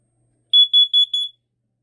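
A carbon monoxide alarm in a residential alarm-system test gives four sharp, loud, evenly spaced high-pitched beeps in quick succession, with no other sound around them.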